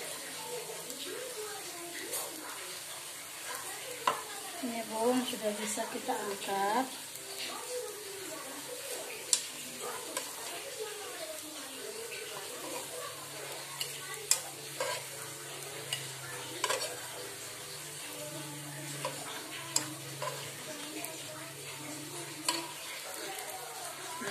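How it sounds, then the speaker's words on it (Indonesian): Soft, steady sizzling of wingko babat batter baking in a Teflon pan, with occasional light scraping and tapping clicks, while someone talks over it. "kita panggang 3 sampai 5 menit ya bun"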